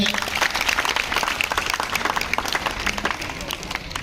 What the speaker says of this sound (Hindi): ताली बजा दे भाई बच्चे।